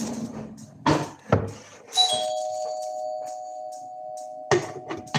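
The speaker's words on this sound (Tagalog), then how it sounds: "Ay, nag-doorbell." An electronic doorbell chimes in a home, its tones ringing out clearly and then lingering as a sustained hum, after a few knocks and clatters.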